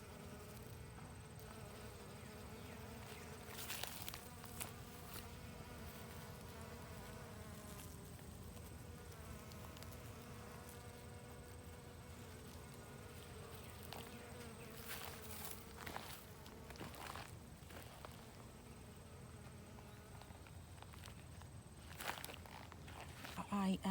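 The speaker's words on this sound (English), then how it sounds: "I see lot of bees, maybe honey bee" Steady insect buzzing throughout, like honey bees working around cosmos and dwarf crape myrtle flowers, faint and continuous with occasional rustles and footsteps nearby.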